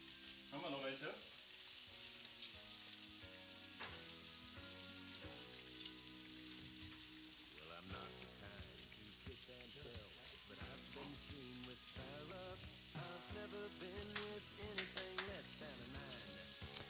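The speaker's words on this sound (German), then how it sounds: "Dann tun wir jetzt noch ein bisschen Butter rein." Butter sizzles and fries in a pan for burgers, a steady crackling hiss with stirring, faint and under louder music.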